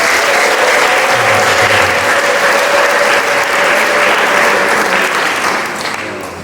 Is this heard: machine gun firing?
no